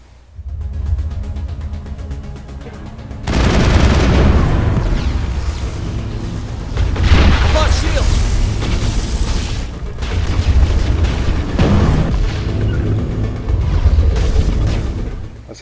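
Gunfire and robot explosions in the Mass Effect video game: heavy booming blasts and bursts roll in repeated waves over a low rumble, loud and close, with no talking.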